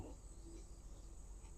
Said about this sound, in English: Hopefully you enjoyed the nature sounds here. Got the crickets and the birds going.